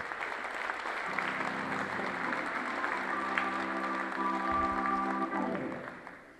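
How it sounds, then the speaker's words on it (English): A crowd at a high school community celebration applauds steadily, a dense wash of clapping that swells then fades out, with a few voices and tones underneath. "Let's have a round of applause for yourselves."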